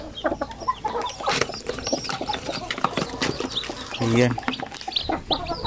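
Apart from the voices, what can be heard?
newly hatched Basilan chicks cheeping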